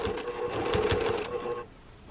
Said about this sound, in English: And again, just smoothing and smoothing and smoothing. Keeping everything nice and straight in front of you. And we're just top stitching.